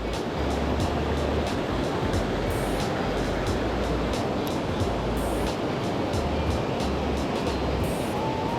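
A waterfall and strong mountain stream in a scenic gorge roar with a loud, continuous, dense rush of water, close and steady throughout with no voices.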